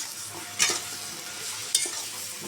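Eggplant pieces seasoned with turmeric and salt frying in a pan, a soft steady sizzle broken by two sharp stirring scrapes, close by with no talking.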